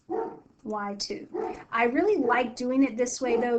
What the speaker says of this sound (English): Sorry about my dog barking right there.